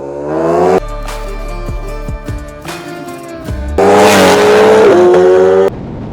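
High-revving sportbike engines at a drag race, a Ducati Panigale V4 against a BMW S1000 RR: loud, close tonal engine whine climbing through gear shifts, with brief drops between pulls and a sustained screaming run near the end.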